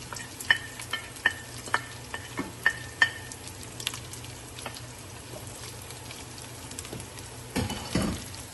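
Garlic and onion sauté in a pan for laing. Utensil clinks and stirring taps land in a quick series early on, over a faint, continuous sizzle, with a brief louder scrape near the end.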